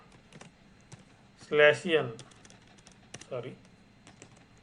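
Computer keyboard typing C++ array code, with scattered light key clicks running under a voice that speaks briefly.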